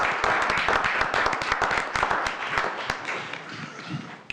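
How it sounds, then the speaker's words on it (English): An audience at a village board meeting claps in steady applause, many hands close by, sustained for several seconds before thinning out toward the end. "I think that we should all give Mr. Ruggiero and Mr. White a round of applause"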